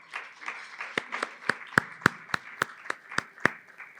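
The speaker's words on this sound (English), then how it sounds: "A round of applause, everybody." Scattered hand claps from an awards ceremony audience, about a dozen distinct sharp claps in an uneven rhythm, fairly quiet, with no voices over them.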